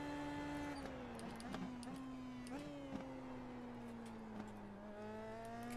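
An Indy Pro 2000 race car engine in the iRacing sim gives a steady, buzzy, rattling drone rich in overtones, dipping in pitch as the car brakes and rising again as it pulls away, with no talk.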